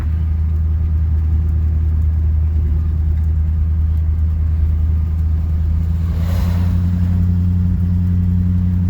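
A 1969 Dodge Polara nine-passenger wagon drives along at low cruising speed, its engine a loud steady low rumble with a brief swell partway through, close and continuous with no talk.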